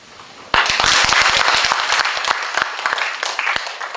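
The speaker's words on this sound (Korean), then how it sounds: "박수쳐" Applause from an audience at a Korean lecture on acupuncture, starting abruptly and continuing as dense, loud clapping with distinct individual claps.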